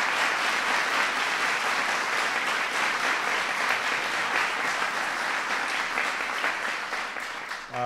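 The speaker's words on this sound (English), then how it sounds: "Please give Nancy an applause." A large audience at a political speech gives sustained applause, a dense steady roar of clapping that carries evenly for several seconds before tapering slightly at the end.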